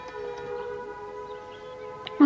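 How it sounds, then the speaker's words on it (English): An air raid siren drones faintly in the distance as a steady wailing tone, with a loud sound cutting in at the very end. "That's an air raid siren."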